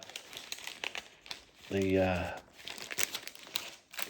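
A short burst of a vinyl record's original plastic bag sleeve crinkling rustles for about half a second, set between stretches of quiet handling noise.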